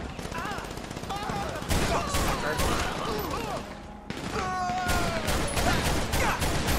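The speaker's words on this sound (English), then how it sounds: "They are taking a ton of bullets." Dense, rapid automatic gunfire rattles through a bank robbery shootout in the LSPDFR police video game. Loud overlapping bursts run almost continuously, with a brief lull midway, while a voice talks over the shooting.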